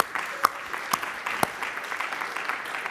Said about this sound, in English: So final round of applause for all of you